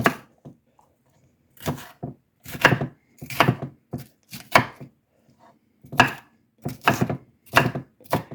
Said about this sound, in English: I am going to process this pretty fine, because I don't want big chunks of green pepper